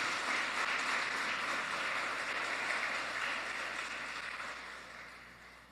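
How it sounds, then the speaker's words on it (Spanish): Congregation clapping hands together during a church service, a dense, sustained wash of applause that holds steady and then slowly fades, with no talk over it. "Dale palmas al Señor en estos momentos."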